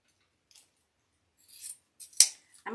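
Scissors trim evergreen branches for a rustic Christmas wreath. After a quiet start, there is a soft rustle, then a sharp, crisp snip up close and a brief scrape.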